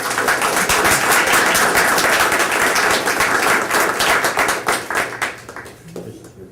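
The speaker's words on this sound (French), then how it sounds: "alors j'aimerais qu'on applaudisse Marie-Frédérique Forget." Dense applause from a crowd at an Opération Nez Rouge 2013 event, steady and loud, with scattered sharp claps, tapering off toward the end.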